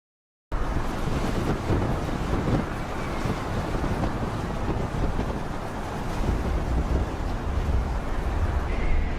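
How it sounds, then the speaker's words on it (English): Stormy sea batters a giant cargo ship loaded with timber, a steady roar of wind and crashing waves with heavy wind buffeting on the microphone, unbroken throughout. "A giant cargo ship transports timber during a storm. These waves are quite powerful and high."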